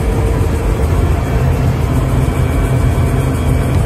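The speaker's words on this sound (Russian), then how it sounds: "В кабине китайского комбайна Low-Vol." Steady low engine drone inside the cab of a Chinese combine harvester during grain unloading in the field, a constant loud rumble with no break and no talk.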